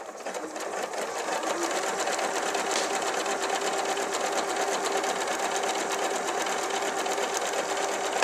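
An Elna Lotus sewing machine runs an applique stitch at a widened stitch width, a steady, close, continuous mechanical whir and rapid needle chatter that does not pause, with no voices.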